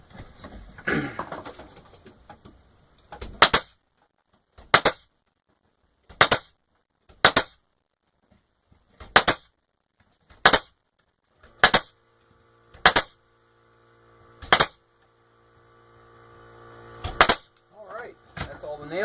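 Sharp, separate hammer blows drive nails into wooden beehive frames being assembled by hand without a jig, about a dozen loud cracks spaced roughly a second apart with quiet pauses between them.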